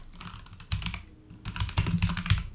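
Keys clatter on a computer keyboard while code for a Nuxt 3 multilingual site is typed, a close, uneven run of quick clicks with a short pause in the middle and no talk.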